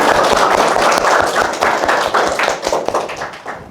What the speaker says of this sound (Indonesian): Kasih tepuk tangan dulu buat semuanya.